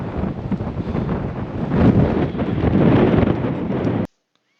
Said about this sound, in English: The wind is so strong, look at that.